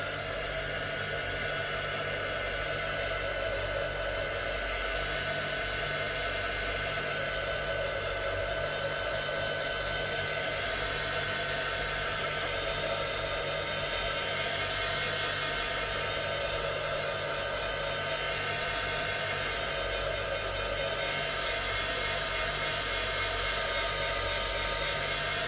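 A heat gun blows continuously for the whole stretch, a steady close whooshing roar used to dry paint on a handmade bookmark, with no other sounds.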